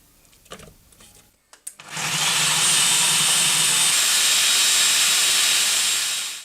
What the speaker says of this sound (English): I'm going to puree 3 tomatoes and I'll be using the large bowl